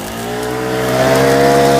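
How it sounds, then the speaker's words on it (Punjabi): A small OHC engine drives a water pressure pump, running steadily with a strong harmonic hum that builds gradually louder and more intense, alone without any talking. "ਆਵਾਜ਼ ਦੇਖੋ ਇੰਜਨ ਦੀ"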